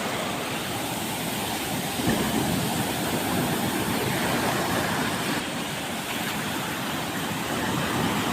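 Sea waves break on the Konkan shore during traditional net fishing, a continuous loud rushing surf with a swelling surge partway through and no talking.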